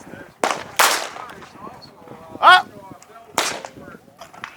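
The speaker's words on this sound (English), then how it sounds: "So you guys gonna watch me shoot this gun." Shots from a Glock 44 pistol chambered in .22 ring out as three or four sharp, loud cracks spaced irregularly, with a voice speaking between them.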